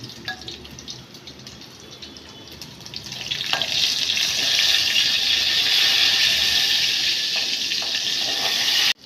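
Garlic dropped into hot oil for katachi amti: a quiet background gives way to a loud, close, bright sizzle that swells after a few seconds and holds steady until an abrupt stop.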